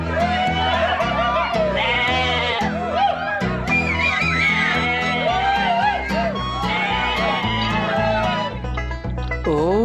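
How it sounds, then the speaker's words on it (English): Sheep bleat and cheer in a busy, musical chorus of wavering, quavering calls layered over a steady backing, loud and continuous with shouty bursts throughout. "Sheep cheer."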